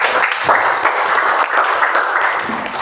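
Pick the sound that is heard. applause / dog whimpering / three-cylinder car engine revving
applause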